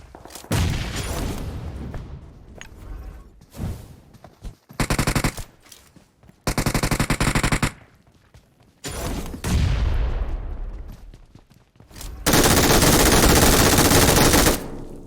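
Automatic gunfire from an M416 rifle and an MG3 machine gun in the mobile battle-royale game PUBG Mobile, loud sustained bursts with echoing tails and brief pauses, ending in a long continuous stream of fire, with no talk.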